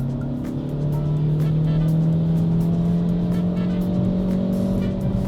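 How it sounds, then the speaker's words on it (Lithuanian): A 2026 Renault Clio accelerates hard at full throttle on a motorway, its engine drone rising steadily in pitch with a loud, sustained note and no talk over it. "nebent man reikia staigiai ir agresyviai akceleruoti. Ir dabar nuspausiu dugną."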